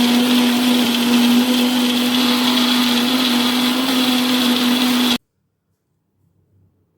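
A mixer grinder blending nuts and dates whirs loudly and steadily at high speed for several seconds, then cuts off abruptly into near silence.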